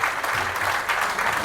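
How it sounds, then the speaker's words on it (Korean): Audience at a community meeting in Seongju, steady dense clapping from many hands, close and continuous without a break. "모든 분들이 자리에 배석하실 때까지 박수 부탁드리겠습니다"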